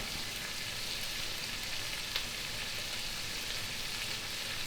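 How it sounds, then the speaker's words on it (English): Lamb sautéing in a pan with tomato paste, rosemary and thyme gives off a steady, close sizzle and hiss that never lets up, with no talking. "And we saute together everything, and look, it changed already the color."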